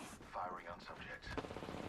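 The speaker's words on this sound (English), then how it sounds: "I'm getting shot at" Video game gunfire, a rattle of rapid automatic shots and scattered bursts mixed with game sounds, fairly faint, with a voice talking over it.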